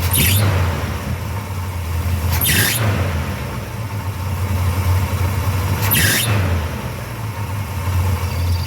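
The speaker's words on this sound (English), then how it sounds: "You can hear the belt squeak pretty well." A car's drive belt squeals sharply, chirping three times at irregular intervals over the steady rumble of an idling engine.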